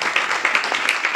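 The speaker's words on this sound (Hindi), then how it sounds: "ताली बजाओ यार, अपने लिए ताली" An audience at an ISKCON spiritual talk claps together in a room, a steady stream of overlapping hand claps with a loose rhythm and no talking.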